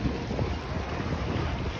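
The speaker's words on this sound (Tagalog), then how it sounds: "Tsaka yung napapaspas ka ng hangin" Steady wind rushing and buffeting a microphone, a continuous low roar with no talking, like being out on open water.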